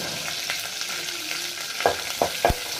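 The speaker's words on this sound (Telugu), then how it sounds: "దీన్ని బాగా కొంచెం ఫ్రై చేసుకోవాలి. జీడిపప్పు బాగా ఫ్రై అయింది." Cashews fry in a little oil in a pot for chicken fry, giving a steady close sizzle with a few sharp clacks of stirring near the end.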